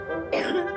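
A patient with asthma-like symptoms gives a single short, close cough with a throaty rasp over a faint steady hum.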